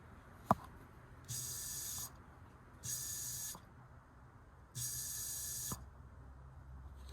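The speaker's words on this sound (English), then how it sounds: "Looked right at it when sprayed WD-40 in there." WD-40 is sprayed into an old 307 small block Chevy engine in three separate short, faint hissing bursts, with a few small clicks in between.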